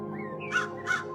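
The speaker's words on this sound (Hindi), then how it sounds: "कालू कौवा मीनू मौसी के घोंसले के बाहर आ जाता है।" A crow gives two distinct caws about a third of a second apart, clear and fairly close over a steady background hum.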